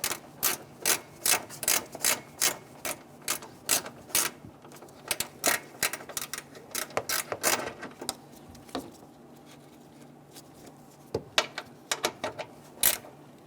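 A hand ratchet clicks in quick bursts as it tightens starter mounting bolts on a 2012-2017 Toyota Camry 2.5L, close and sharp, with short pauses between runs of clicks.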